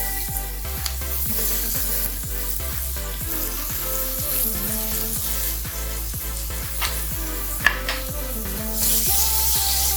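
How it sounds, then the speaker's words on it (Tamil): Onion and green chili fry in a pan with a continuous close sizzle, broken by regular scraping and stirring strokes against the metal. "இது நல்லா வதங்கட்டும்."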